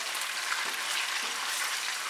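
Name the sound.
tuna frying in olive oil in a pan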